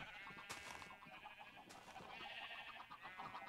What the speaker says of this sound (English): I have organized my sheep farm